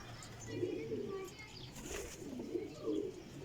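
A black pigeon coos softly in low, repeated phrases, faint and close against a quiet background.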